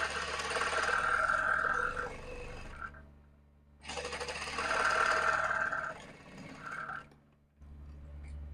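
A sewing machine stitches the hem of a salwar in two steady runs of several seconds each, separated by a short pause, at moderate volume close by.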